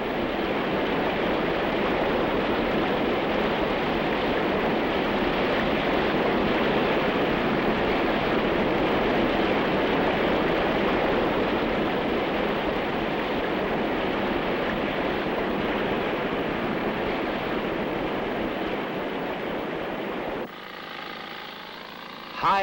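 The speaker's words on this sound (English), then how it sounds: "the new tunnels felt the full fury of the raging river" Raging Colorado River water roars through newly built diversion tunnels at Glen Canyon, a loud, dense, unbroken rush that holds steady for about twenty seconds before dropping away abruptly near the end.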